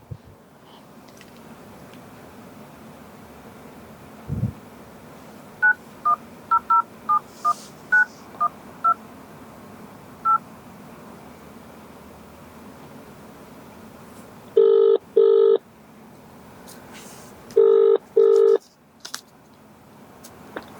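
A run of short DTMF keypad beeps dialing a phone number in a quiet room, followed by two longer bursts of ringback-style tones, all clear and close with no talking over them.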